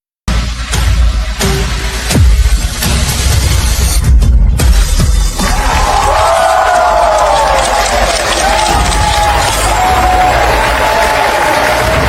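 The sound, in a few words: audience applause at a fashion show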